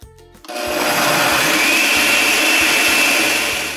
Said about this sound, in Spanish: vamos a terminar de licuar.